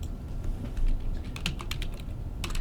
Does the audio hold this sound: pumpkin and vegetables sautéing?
no